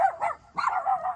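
A small pet dog, a female, lets out two quick close barks in a row with a slight growly edge, clear and fairly loud with no talk over them.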